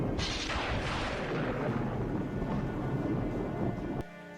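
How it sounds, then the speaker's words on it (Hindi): A heavy, rolling rumble of thunder over steady rain, loud and sustained, cutting off abruptly near the end. "तभी आसमान में बहुत तेज हवाएं चलने लगती हैं और बिजली के साथ बारिश भी शुरू हो जाती है।"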